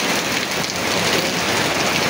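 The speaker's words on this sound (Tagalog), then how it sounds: "ang lakas talaga ng ulan mga guys" Heavy typhoon rain pours in a steady, dense roar with no letup, loud and close, drumming on an umbrella overhead.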